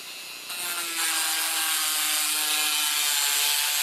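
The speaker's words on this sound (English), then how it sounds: "Yes, I am grinding near my lathe bed" A Dremel cutoff wheel grinds through tough music wire near a lathe bed, a loud, steady high-pitched whine that rises as the wheel bites in and then holds continuously, close and alone.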